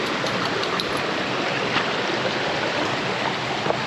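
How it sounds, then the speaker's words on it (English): Water pours down a two-tier cascade on a brook, a dense, continuous rushing roar heard close and loud without any pauses or speech. "This is like a two-tier cascade."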